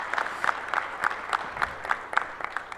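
An assembly audience of the Movimiento Nacional por la Esperanza claps in a steady rhythmic unison beat that sounds faint and distant across a hall.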